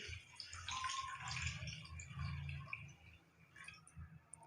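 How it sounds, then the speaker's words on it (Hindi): Two glasses of water pour into besan curry simmering in a pan, a steady splashing and gurgling stream with bubbling underneath, close and moderately loud throughout. "हम इसमें 2 गिलास पानी शामिल करेंगे।"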